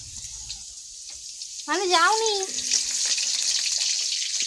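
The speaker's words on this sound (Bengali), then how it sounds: "আর আলুটা ভাজছি।" Potatoes frying in a pan at home, a steady bright sizzle running throughout, close and moderate, with someone speaking over it partway through.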